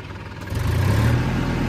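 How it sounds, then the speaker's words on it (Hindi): A Massey Ferguson 245 DI 50 hp diesel tractor engine runs nearby; its low, rumbling note swells and grows louder about halfway through as the throttle opens, then holds steady. "तो अब हम चला के दिखाएंगे ट्रैक्टर को"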